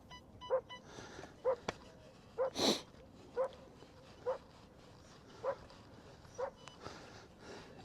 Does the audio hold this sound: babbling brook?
no